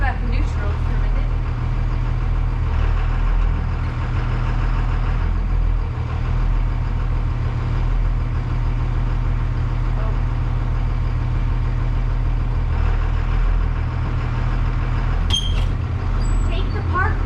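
A school bus engine idles in neutral on its first start after winter, a steady low diesel rumble running throughout, close and loud, with faint voices and a brief sharp rattle near the end.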